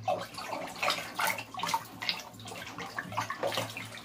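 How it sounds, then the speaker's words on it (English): Nutrients being stirred into a container of fresh water for growing plants, producing irregular soft sloshing and swirling splashes, close and moderately loud, with a low steady hum underneath. "Give her a stir."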